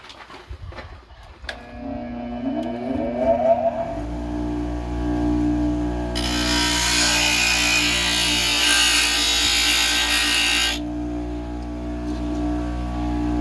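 A power grinder spins up and cuts off a rivet head on a Ford Ranger tailgate handle, a rising whine that settles into a loud steady harsh grind, then drops back to the motor's hum.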